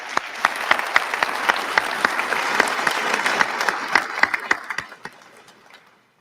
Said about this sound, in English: I'd like to give him a courtesy round of applause for bringing us all together today